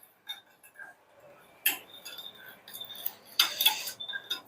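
A spoon stirring lukewarm milk and sugar in a bowl or glass, producing light repeated metallic clinks and taps at an uneven rhythm, close and fairly quiet.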